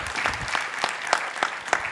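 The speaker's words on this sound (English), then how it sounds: "Another round of applause for our panelists" An audience at a vaccine equity event in Rwanda applauds its panelists, a moderately loud bed of clapping marked by a few sharper, regularly spaced claps standing out near the front.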